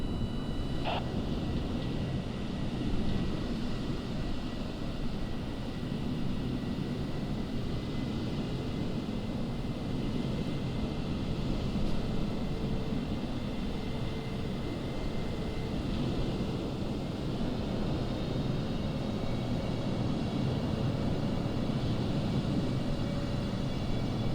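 A heavy New Zealand airliner landing on a runway, with a steady broad roar of engines and rushing air that stays loud and even throughout, no voices.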